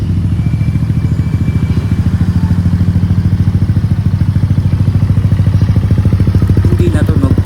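A motorcycle fitted with a JVT V3 exhaust idles loud and close, its rapid, even exhaust pulses thumping in a steady rhythm for the whole stretch.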